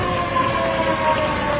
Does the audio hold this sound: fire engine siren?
yes